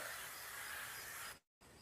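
Cooking oil misted from a hand sprayer at a Big Green Egg cooker: a steady, close breathy hiss lasting over a second, then a brief silence before it resumes.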